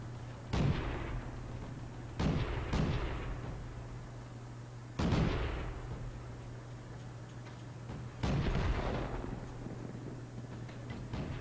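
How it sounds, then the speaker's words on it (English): Artillery fire in the tank battle game World of Tanks: four or five heavy booming shots spaced several seconds apart, each trailing off in a long rumbling decay over a low steady hum. "Be careful, they have some artillery."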